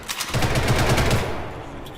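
A newly switched gun in the Ghost in the Shell Online video game fires a loud, rapid automatic burst of about a second that then trails off into fading echo.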